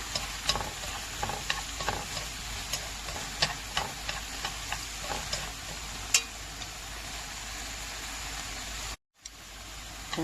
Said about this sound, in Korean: 자, 이제 토마토를 넣고 볶아줄게요.